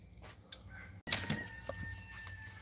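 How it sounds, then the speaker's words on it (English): A rooster crows among clucking chickens, the crow coming partway through amid other faint farmyard fowl sounds at moderate distance, with no talk. "Hear the chickens or the roosters?"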